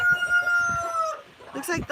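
A rooster crows loudly and close by on a rural South Dakota farm, followed by hens clucking, with a person talking briefly in the background.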